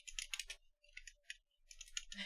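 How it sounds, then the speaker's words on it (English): Typing on a mechanical computer keyboard produces quick bursts of crisp clacking keystrokes in uneven clusters separated by short pauses, faint and close, with no speech. "Whether it's the sound of mechanical keyboards, clacking dice, or any other satisfying clack-like noises"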